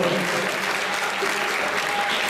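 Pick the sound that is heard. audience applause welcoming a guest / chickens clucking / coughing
audience applause welcoming a guest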